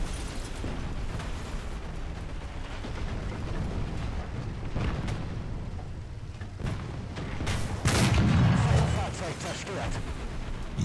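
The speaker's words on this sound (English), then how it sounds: "Something might have tried to shoot me on my right side." Tank battle gunfire and explosions in War Thunder, a Panther II engagement with dull booming blasts and rumbling over a continuous mechanical din, one heavier nearby burst standing out, with a player talking throughout.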